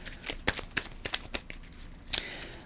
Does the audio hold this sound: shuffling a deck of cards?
yes